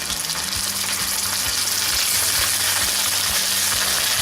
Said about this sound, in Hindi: मैंने 1/4 कप ऑयल लेकर तो प्याज जो बारीक काटे हैं उसमें डाल दिए हैं, और अब प्याज ब्राउन हो रहे हैं